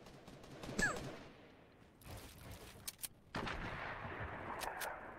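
Sniper rifle shots in the battle royale video game Fortnite, a few sharp distant cracks spaced apart over background game ambience, with a louder burst near the end.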